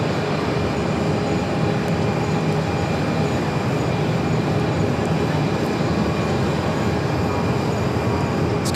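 A US Airways A319 airliner takes off from Phoenix for Tucson, a steady, loud, broadband jet roar held throughout at a distance, with no talk over it.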